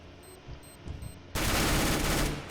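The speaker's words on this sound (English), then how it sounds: "Incendiary into the site with HEs." Counter-Strike gunfire and grenades: a few faint thumps and clicks, then a sudden loud burst of explosive noise that holds as a dense roar to the end.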